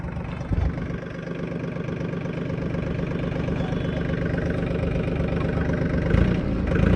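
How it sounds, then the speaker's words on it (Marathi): A new tractor's diesel engine idles steadily and close by, a low rumbling throb with a brief rise near the end and no voices. "आता आपण ड्राईव्ह करणार ट्रॅक्टर"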